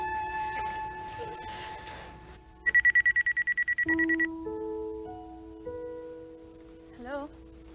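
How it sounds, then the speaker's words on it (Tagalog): Cellphone number dialed on a telephone: a quick run of about ten evenly spaced keypad tones, followed by ringback tones, with faint talk at the start. "I-dial mo cellphone number ni Kuya Ruben mo"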